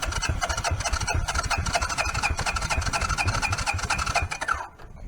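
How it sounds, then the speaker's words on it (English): A 1983 Honda Big Red 200 three-wheeler with fuel-system trouble sputters and churns steadily as it tries to start, a close, rough, continuous mechanical rasp that drops away briefly near the end. "when I give it some throttle, it seems like it wants to run"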